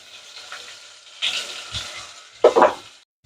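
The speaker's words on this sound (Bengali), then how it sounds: "মশলাগুলোকে একটু ভেজে নিব।" Ginger, garlic and onion paste goes into hot mustard oil, giving soft sizzling with a sharp hiss burst and later a louder crackling flare before quieting, no talking.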